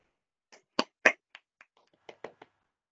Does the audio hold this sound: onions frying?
no